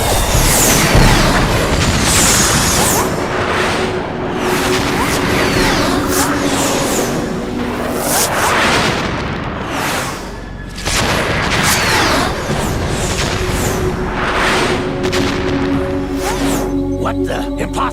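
Missile explosions and gunfire in Metal Gear Solid 2: Sons of Liberty, a dense, continuous barrage of booms and bursts lasting the whole stretch, with voices shouting over the chaos.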